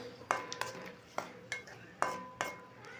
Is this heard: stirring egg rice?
yes